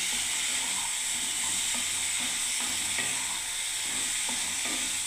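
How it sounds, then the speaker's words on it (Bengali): Peas and mixed vegetables for shukto, including drumsticks, papaya, brinjal, carrot and bitter gourd, are stirred in a hot pan with a loud, steady sizzle and hiss, broken by soft scraping strokes of the spatula. "এবার আমি নাড়তে থাকবো।"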